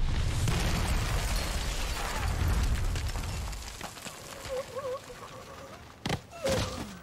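A claymore mine set off by a tripwire blasts with a heavy, roaring low boom that rolls on for several seconds before fading, then a few quieter knocks and pops close by.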